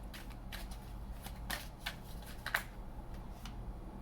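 Tarot cards shuffled by hand in a quiet room, a soft steady riffling and flicking with a few sharper snaps, no talking.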